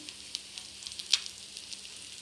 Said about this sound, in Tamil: Egg fry.